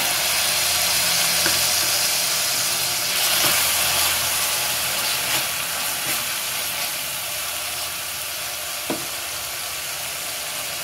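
Grated tomato paste sizzles in a pan with ginger-garlic paste for a masoor lentil biryani, a loud, steady broadband hiss with occasional soft stirring clicks and no speech.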